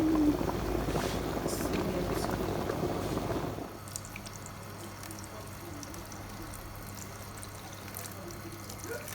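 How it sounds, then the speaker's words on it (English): Water poured into a pot of Nigerian moi moi on the stove, a steady splashing rush for several seconds that cuts off to a low simmering hum with faint clinks. "Add more water."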